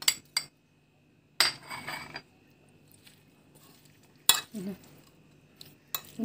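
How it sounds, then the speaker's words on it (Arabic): Garlic, chili and salt are stirred together in a dish with a spoon, giving several separate bursts of clinking and scraping against the dish with quiet gaps between them, heard up close with no talking. "نقلبهم على بعض."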